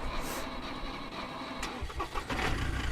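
A car engine cranks and catches in the video game SCUM, then settles into a low idle with mechanical clatter underneath.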